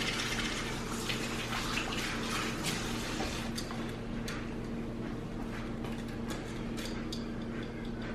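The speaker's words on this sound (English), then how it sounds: "let me wash my hands here real quick" Water runs steadily from a tap during hand washing in a kitchen while bacon is being prepared, a constant close rushing splash with no talking.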